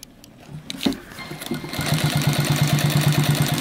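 Sewing machine stitching a back pocket on jeans, starting with a few handling clicks, then a fast, steady, loud mechanical chatter of stitches running continuously up close.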